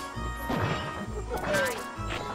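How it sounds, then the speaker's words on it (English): In the Kingdom Hearts video game, a giant pot shatters with sharp crashing and whacking hits amid busy game effects, in a few quick bursts. "Whack the nuts back at the pot to shatter it."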